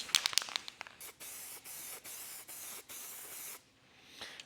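A spray gun lays down a light coat of sealer in a series of short, even hissing bursts, close and fairly quiet, with a few clicks at the start.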